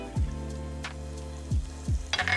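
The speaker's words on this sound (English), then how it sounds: "You can hear a little bit of a sizzle." Chili oil sizzles steadily in a hot pan as ginger goes in, with several short bright bursts of frying hiss and stirring scrapes close by, no voices.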